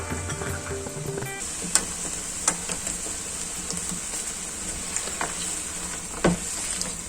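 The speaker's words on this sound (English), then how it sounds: "Going to nicely mix the dry spices around with the tomatoes." Tomatoes sizzle in a pan with red chili powder and dry spices while a spoon stirs them, giving a steady close frying hiss broken by a few sharp scraping clicks.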